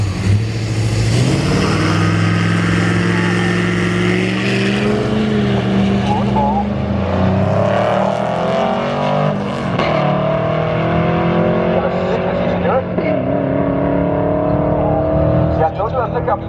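Turbocharged 6.7-liter Ford F-250 pickup racing down a dragstrip, engine roaring and climbing through gears with turbo whine as it pulls away, under a commentator's voice.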